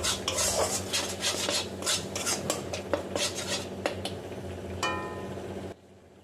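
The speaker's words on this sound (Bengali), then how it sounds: "আবারও সব কিছু ভালো করে নেড়ে চেড়ে নিচ্ছি।" A spoon stirs pieces of silver carp fish with salt, chili powder, a little sugar and turmeric in a pan, giving repeated clinks and scrapes of utensil against metal at a steady, close rhythm before falling quiet at the end.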